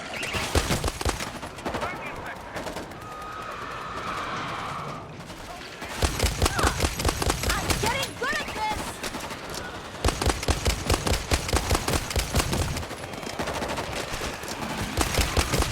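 Explosive ammunition fired in World War Z Aftermath against zombie hordes in Las Vegas: rapid, loud bursts of gunfire in sustained volleys, with short pauses between strings of shots and talk underneath.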